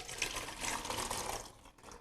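Water runs and splashes over sago pearls as they are rinsed through a kitchen strainer, a steady close trickling that thins and fades toward the end, with no talk.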